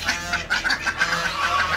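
Ducks, including small ducklings, are let out of their pen on a farm, filling the air with a steady, close flurry of overlapping quacks and chattering calls.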